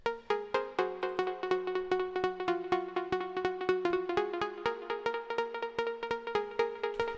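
A bright Serum synth lead built from two saw waves through a filter plays a steady run of short, evenly spaced plucked notes over several seconds, moderately loud and alone.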